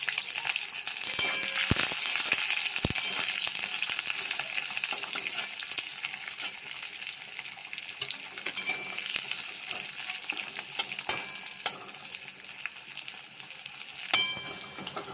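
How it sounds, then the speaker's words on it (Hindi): Chopped onion sizzles and fries steadily in hot oil with panch phoron tempering for moong dalma, a dense continuous crackle with a few brief clatters of stirring, close and fairly loud with no talk. "पंच फुटण को देवा। काटी रखी पियाज को देदेबा।"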